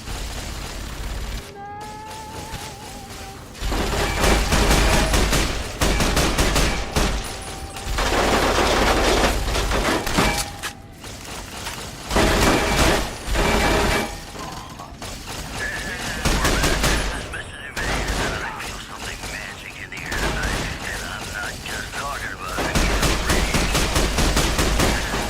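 Automated turret gunfire in the video game Fallout New Vegas near the Mojave Outpost, loud rapid bursts and fusillades repeating in waves over about twenty-five seconds with brief pauses between volleys.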